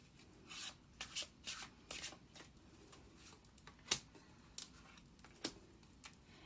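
Tarot cards being shuffled, a run of soft papery riffles and rubbing bursts at close range, quiet and irregular with a sharper snap near the middle and no talking.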